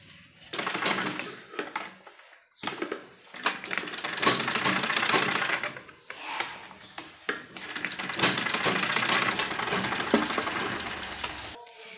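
A sewing machine stitches elastic onto an old salwar, running in long bursts of rapid mechanical clatter. The runs are close and loud, separated by brief pauses.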